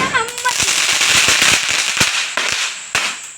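Rapid firecracker bursts for the Vishu festival crackle in a dense, irregular string, with a few louder sharp pops standing out, while voices chatter underneath.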